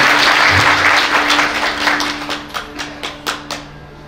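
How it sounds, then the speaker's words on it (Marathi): Audience at a kirtan clapping loudly in a thick burst that thins out into a few separate, slowing claps, while a low tone hums underneath. "एकदा जोरदार टाळी वाजवा महाराज"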